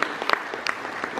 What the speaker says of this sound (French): est-ce qu'on pourrait prendre un temps pour applaudir vos pasteurs qui sont là ce matin